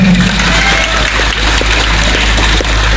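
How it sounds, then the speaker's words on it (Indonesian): Applause from a gathered audience welcoming the governor of NTT at a state senior high school assembly in Wolowaru, Ende, a steady dense clapping wash that holds evenly throughout without a break. "Tepuk tangan sekali lagi"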